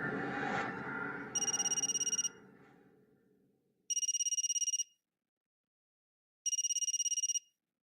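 A mobile phone rings three times in a dark, quiet house, each electronic ringing burst lasting about a second and clear against the silence, after a fading low rumble at the start.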